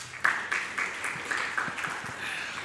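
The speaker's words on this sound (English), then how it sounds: "Please welcome him with a round of applause." Audience applause welcoming a guest speaker onto the stage at an Indian economic outlook event, a steady, moderately loud patter of many hands clapping throughout, with a few sharper claps standing out.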